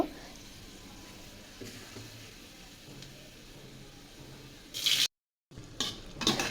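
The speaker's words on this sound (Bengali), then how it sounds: "তেল গরম হয়ে গেছে দিয়ে দিচ্ছি রসুন তেতো করা রসুন রসুনটা একদম লাল করে ভেজে নেব" Garlic frying in hot oil, a faint steady sizzle with occasional stirring scrapes, then a brief dropout followed by louder bursts of sizzling near the end.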